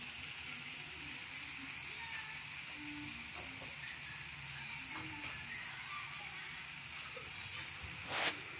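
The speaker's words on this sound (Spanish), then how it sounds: "deje que se fríe un poquito" Chile sauce for bocolitos frying in a pan gives a steady, soft sizzle and hiss throughout, fairly quiet, with a brief sharper burst near the end.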